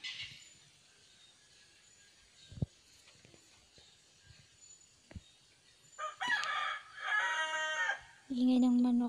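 A rooster crows loudly near the end, following a quieter stretch with faint scattered knocks and background hiss.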